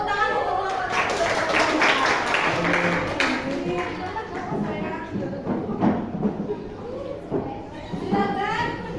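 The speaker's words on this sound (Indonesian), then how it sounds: "Tepuk tangan untuk kelompok satu." Schoolchildren in a classroom clap for group one after a group activity, a mix of scattered hand claps and children's chatter and shouting that continues throughout, fairly close and busy.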